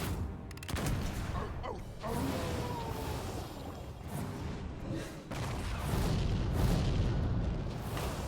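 An artillery strike in Hearthstone Mercenaries lands as a series of booming blasts and whooshes amid busy game effects, with a voice talking quietly underneath.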